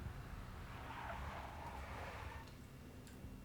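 Tires squeal as a big black Mercedes skids in the Max Payne video game, a sustained fairly loud screech lasting a couple of seconds over a steady low rumble, then fading into background noise.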